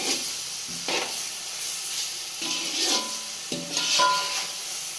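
Ginger and garlic sautéing in a pan for chicken biryani, a steady close sizzle broken by several scraping stirs of a spoon against the pan at irregular intervals, with no talking.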